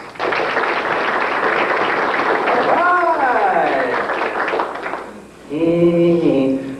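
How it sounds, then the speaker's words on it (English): Warm round of applause from a banquet audience for magician Lee Cox, broad steady clapping that swells and then fades near the end, with music or a voice rising briefly over the tail. "Let's give a warm round of applause for Lee Cox."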